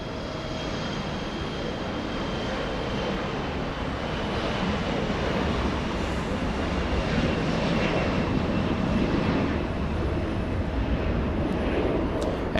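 An airliner departs LAX with a sustained, powerful jet engine roar, broadband and steady for over twelve seconds, slightly swelling toward the end with wind buffeting the microphone.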